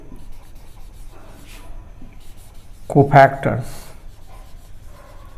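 A pen scratches out a matrix by hand during a lesson on matrix inverses, with brisk strokes rising briefly and loudly beneath someone speaking.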